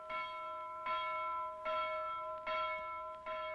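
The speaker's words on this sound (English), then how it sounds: "announces today with his loud get-out-of-bed bell" A loud bell rung by hand to wake a seaside town in the morning, clanging five times in a steady, even rhythm with ringing overtones between strikes.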